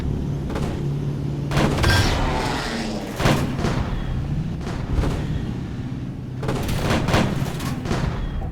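Tank cannon rounds hit armor in the game Panzerkampf, producing repeated heavy booms and metallic impacts in irregular bursts over a rumbling engine.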